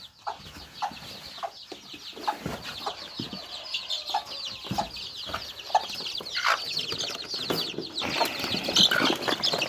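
Chickens cluck throughout a henhouse, a busy overlapping chorus of close and farther clucks and calls with occasional wing rustles, growing louder and denser toward the end.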